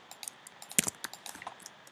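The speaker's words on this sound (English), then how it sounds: "Oh, he's typing." Typing on a computer keyboard, quiet rapid key clicks in an irregular rhythm with one sharper tap partway through, close and alone without speech.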